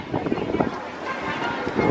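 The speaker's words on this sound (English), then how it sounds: "It's like really windy." Strong wind buffeting the microphone outdoors, a continuous rough rumble with gusty swells, heard close and loud under a voice.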